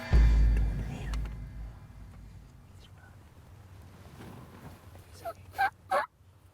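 A wild turkey gobbler during a youth turkey hunt gobbles three times in quick succession, in short sharp bursts at moderate distance that stand out over quiet outdoor ambience.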